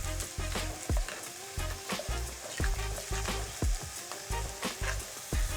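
Grated Parmesan being stirred into a simmering Alfredo sauce in a pan, with a soft steady bubbling sizzle and repeated scraping strokes of a spoon, close and unaccompanied by talk.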